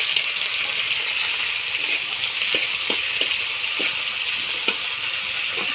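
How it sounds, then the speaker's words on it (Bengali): Slit green chillies and chopped onion sizzle in hot oil in a wok, a continuous bright crackle with scattered sharp pops and light clinks, close and without speech. "কড়াইতে তেল গরম হয়ে গেছে, দিয়ে দেবো কাঁচা লঙ্কা চিরা আর একটা পেঁয়াজ কুচি"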